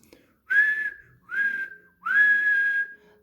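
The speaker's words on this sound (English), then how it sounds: "This is the day, whistled Stuart cheekily." Three whistled notes in a row, each sliding up then holding steady, clear and close with short gaps between them.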